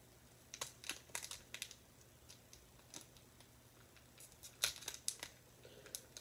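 Sharp snipping and crinkling sounds come in irregular clusters as scissors cut through the plastic packaging of a Pokémon Celebrations Elite Trainer Box, close by and fairly quiet.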